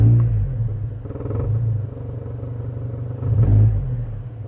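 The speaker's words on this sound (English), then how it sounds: "So this is what rev sounds like in the car." Inside the cabin of a 2014 Mazda3 with a muffler delete, the engine revs twice, each time a loud, deep droning rumble rising over a steady idle, with some vibration.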